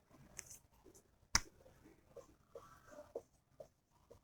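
Chalk or marker writing on a board in a classroom lesson: faint scattered scratches and light taps, with one sharp click, in a quiet room.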